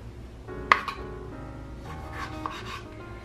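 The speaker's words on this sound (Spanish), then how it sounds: "Aquí en la misma tablita voy a comenzar a picar lo que es el jitomate" A knife cuts a tomato on a small cutting board, giving a few sparse, close chops with a soft scrape between them and no talking.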